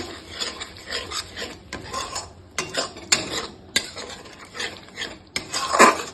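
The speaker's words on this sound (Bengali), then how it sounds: "কাজু বাদাম থেকে যতক্ষণ না তেল ছাড়ছে ততক্ষণ নাড়তে হবে।" Repeated scraping and rasping of a spoon stirring cashew nuts frying in oil in a pan, in short irregular strokes with brief pauses, close and clear with no voices.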